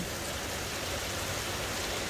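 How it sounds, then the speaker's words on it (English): Rain falls steadily on a roof in Florida, a continuous even hiss of drops that stays at one level throughout, with no voices. "Watch the rain walk across that roof."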